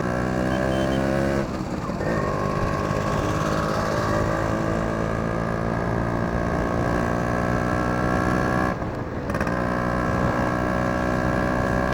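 A Yamaha RX100 motorcycle is ridden on the road with a loud, steady engine drone that holds throughout, with two brief dips in pitch and level, heard up close and without talk.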